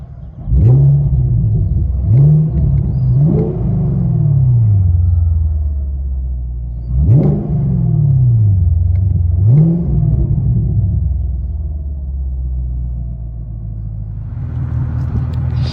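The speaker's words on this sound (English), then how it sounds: "Those Flow FXs sound so good on these." Chevy Camaro SS with a 6.2L V8 and Flow FX exhaust, heard from inside the cabin: a deep rumbling idle broken by several sharp revs that rise and fall, then settle back to a low drone.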